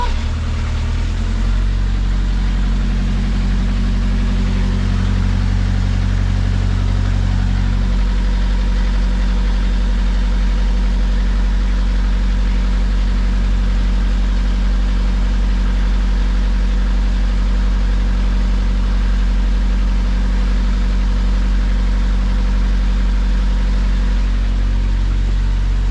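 Sailboat diesel engine idling steadily, then shifting into gear with the throttle raised, the low-pitched rumble holding close and loud and alone with no talk.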